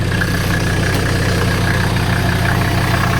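A 1985 Mercedes 300SD turbo diesel idles loud and close with a steady low rumble, while a thin, constant whine from the transmission rides over the engine throughout.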